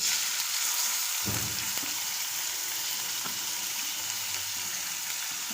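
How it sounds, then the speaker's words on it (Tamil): Chopped onions sautéing in oil in a stone pot, giving a steady, close, continuous frying sizzle with a soft stir or scrape around the middle and no talking. "வெங்காயம் நல்லா வதங்கினா தான் டேஸ்ட்டாக இருக்கும் அதனால் நம்ம நல்லா வெங்காயத்தை வதக்கிட்டு"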